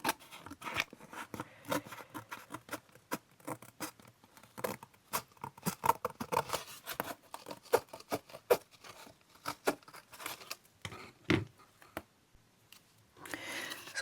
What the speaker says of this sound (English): So I shall use my scissors.